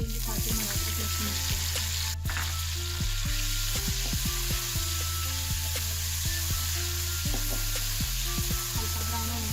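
Ginger-garlic paste sizzles in a hot pan with a splash of water as the base for chicken korma, a steady, close frying hiss running the whole time over a low tonal backing.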